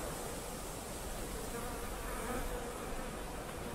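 A dense, steady buzzing of many honeybees, continuous and close, filling the whole stretch with no pauses or voices.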